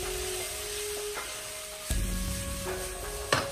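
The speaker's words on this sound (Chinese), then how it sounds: "接着把炒好的鸡蛋也倒在锅中，再次翻炒均匀，使所有的鸡蛋和青椒完全的融合在一起" Scrambled eggs and green peppers are tossed together in a wok, with a soft, steady sizzle and a few sharp spatula clanks against the metal.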